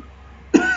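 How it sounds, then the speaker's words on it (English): A woman gives a single sharp, loud cough that breaks a quiet stretch, followed by a brief rough tail. "Sorry for the coughing."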